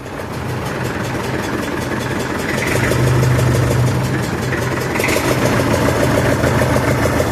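A Massey Ferguson 65 tractor engine idles close by after a battery change, a loud, steady mechanical chug that runs unbroken for about seven seconds.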